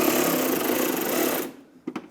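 A power driver snugs bolts on the inner fender liner of a 1996-2002 Toyota 4Runner, whirring loudly and close for about a second and a half before stopping, followed by two short bursts.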